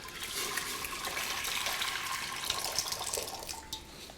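Roughly half a litre of water poured into a pressure cooker to dissolve sugar, a steady rushing, splashing pour heard close and alone for a few seconds.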